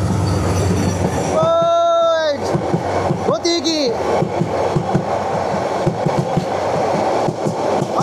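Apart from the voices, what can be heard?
Paryatak Express train passing at crossing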